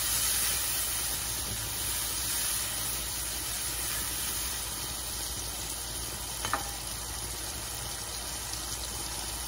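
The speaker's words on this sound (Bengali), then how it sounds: "এখন আমি মশলাটাকে ভালো মতন কষিয়ে নিব।" A spice paste of chili powder, ground coriander-cumin and turmeric cooks in a pan with a constant, even hiss of sizzling, and a single brief clink near the end.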